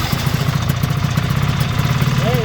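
A 1973 Ski-Doo 399 twin snowmobile engine idles close by while warming up on choke, a loud, steady, throbbing two-stroke putter with even rapid pulses throughout.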